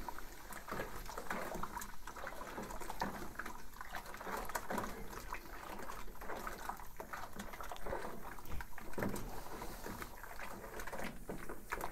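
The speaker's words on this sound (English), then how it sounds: "Now we're just going to stir this up." A utensil stirs powder into cold water in a container, with repeated scraping swishes and sloshing in an uneven rhythm, close by and fairly steady.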